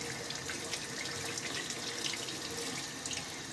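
Tap water running steadily onto soap bars in a sink, a continuous close splashing hiss with no speech over it.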